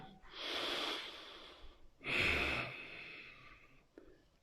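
Two long, deep breaths taken during a yoga class, each a loud airy exhale close to the listener, followed by a short softer breath at the end.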